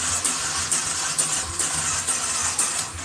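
A Yamaha Byson motorcycle that stalls on the road has its electric starter cranking, a steady whirring grind with regular pulses about twice a second, close and moderately loud.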